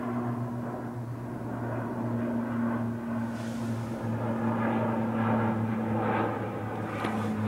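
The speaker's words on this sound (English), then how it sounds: "Another plane's coming over again." A propeller airplane passes low overhead above a carp fishing reservoir, a steady droning hum with a sustained engine tone that holds throughout, fairly loud and constant.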